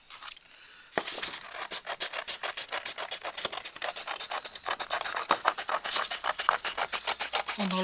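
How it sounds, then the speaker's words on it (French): A blade or rasp works back and forth cutting out a round shape for a fake cutting board made without wood, a close, steady rhythmic scratching that starts abruptly after a brief quiet moment. "Donc là, je découpe."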